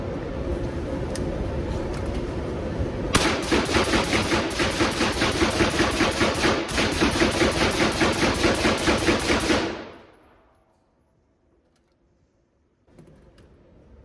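Thirty rounds of mixed ammunition fire rapidly from a 12.5-inch Hodge-barrelled rifle upper with an H2 buffer and a Surefire RC2 suppressor, a loud steady string of suppressed shots that stops abruptly, followed by near silence.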